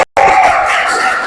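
A brief burst of applause, loud and close, after a short silence, like a classroom full of students clapping at once.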